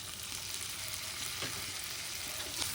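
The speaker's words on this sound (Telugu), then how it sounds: "ఈ అల్లం వెల్లుల్లి పేస్టు, టమోటో వీటన్నిటిని బాగా పచ్చివాసన పోయేందుకు వేయించుకోవాలి." Ginger garlic paste and chopped tomato fry with chicken pieces in a pan, giving a soft, steady sizzle with occasional light stirring scrapes, close but quiet and without speech.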